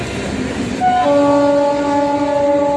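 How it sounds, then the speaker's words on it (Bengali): A train rumbles past close by near Prinsep Ghat, and its horn sounds a loud, sustained blare through most of the passing. "এই যে ট্রেন যাচ্ছে পাশ থেকে"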